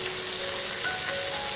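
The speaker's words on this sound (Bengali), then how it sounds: "মাছগুলো দেওয়া হয়ে গেছে, এখন আমি এপিট ওপিট করে ভেজে নেব" Fish frying in hot oil in a pan, a steady, dense sizzle and crackle up close, continuous and even throughout with no talking.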